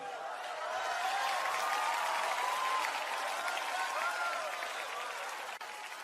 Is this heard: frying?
no